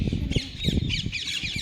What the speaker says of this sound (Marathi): हा पोपट आहे